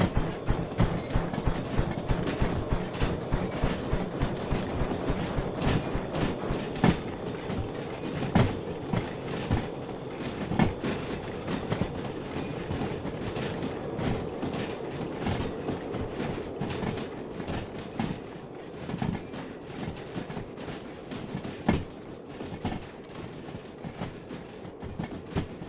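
Locomotive rolling along rails in the train game Derail Valley, a steady rumbling run with rhythmic clickety-clack of wheels over rail joints and occasional mechanical clanks, sustained and fairly close with no talking.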